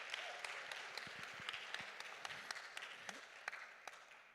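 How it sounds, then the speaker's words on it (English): An audience claps steadily through the whole stretch, a dense wash of many hands at moderate distance with a few sharper individual claps, and no talk over it. "Give them a round of applause."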